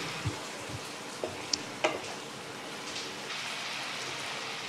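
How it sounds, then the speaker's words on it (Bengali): Masala spice paste frying in a pan while being stirred so it won't stick, for a raw jackfruit and chana dal dish: a steady low hiss of sizzling oil with a few sharp clicks of the spoon, quiet and close. "ভালো করে একটু নেড়ে নিচ্ছি যাতে তলায় লেগে টেগে না যায়"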